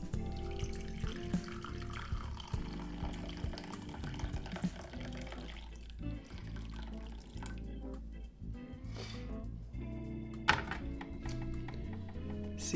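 Water pours steadily into a cup or kettle while making coffee at home, a continuous close trickle and splash with faint clinks near the end.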